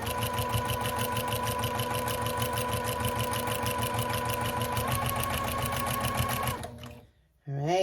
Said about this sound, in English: Now I like to back stitch when I start here, just to make sure that my binding is nice and secure at the corners.